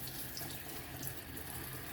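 Tap water runs steadily into a kitchen sink while plantains are washed, giving a constant close splashing rush for the whole stretch.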